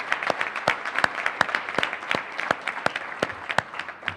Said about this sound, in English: please give Dave a round of applause for all of his hard work and leadership.